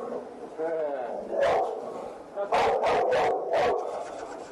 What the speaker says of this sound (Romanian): câinele lor din rasa Amstaff a început să devină agresiv